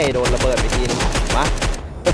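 Rapid automatic gunfire in the mobile zombie shooter The Walking Zombie 2, a continuous stream of close, loud shots with overlapping bursts and a brief break near the end.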